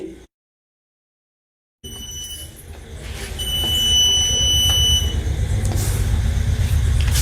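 A steady electronic fire alarm buzzer from an ESP8266-based detector sounds continuously with several high pitched tones, rising in loudness after a brief silence, over a low rumbling background.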